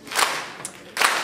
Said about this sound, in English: Come on, clap those hands.